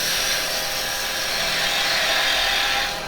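A lathe gouge rides its bevel in a slow, fine finishing cut on spinning yew, giving a loud, continuous high whirring hiss that fades slightly at the end, with no voice.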